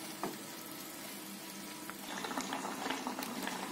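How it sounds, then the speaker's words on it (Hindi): Mutton curry cooks over a medium-low flame in a covered kadai, giving a steady hiss that grows into denser bubbling and spattering pops toward the end, close by with no voices. "तो अब हम इसे ढक कर थोड़ी थोड़ी देर में चलाते हुए मीडियम टू लो फ्लेम पर भून लेते हैं।"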